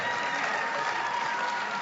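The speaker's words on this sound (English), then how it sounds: "Give yourselves a round of applause." Audience applause at a Martin Luther King Jr. birthday celebration event, a dense steady wash of many hands clapping filling the whole short moment at even loudness.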